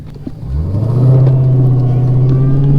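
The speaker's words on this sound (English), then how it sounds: "Let's do a 0 to 60 right here." A Dodge Hellcat at full throttle on a 0 to 60 run gives a loud, close engine roar that climbs in pitch for the first second, then holds a steady, heavy drone.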